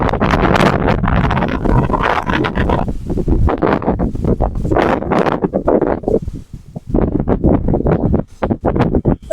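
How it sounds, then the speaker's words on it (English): A sudden strong wind gusts loudly across an outdoor microphone in the Wild West, roaring and buffeting in irregular bursts with brief lulls, close and harsh throughout. "The weather was not windy at all a few seconds ago."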